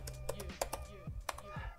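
Commands are typed quickly on a computer keyboard, with a fast, uneven patter of close key clicks and a faint voice underneath.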